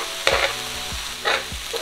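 Shaved steak sizzling in a frying pan while a utensil slices and stirs it, with a few distinct scraping taps over a steady close frying hiss.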